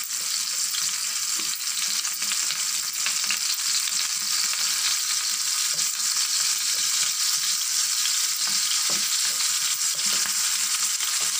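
Dried shrimp fry in a pan for a broad bean curry, giving a loud, constant hiss and sizzle close by, with faint stirring scrapes underneath and no talking.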